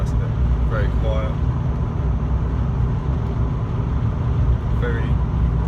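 A supercharged V8 Jaguar XJR cruising at 70 mph around 2,000 rpm, a steady low engine and road drone heard from inside the cabin, loud and continuous without letup.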